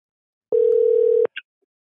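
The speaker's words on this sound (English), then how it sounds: "Your phone is ringing." A single electronic phone-ring tone on an incoming call-in line, one steady buzz lasting under a second followed by a short chirp, loud and alone with no talk.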